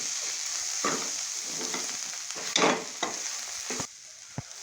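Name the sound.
stirring garlic frying in a pan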